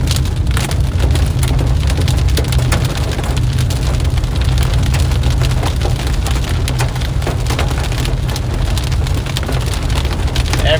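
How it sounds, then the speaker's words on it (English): Hailstones pelt a vehicle during a supercell thunderstorm near Granbury, Texas, a loud, dense and steady drumming of hits with scattered sharper impacts throughout. "You can hear a few dingers hitting."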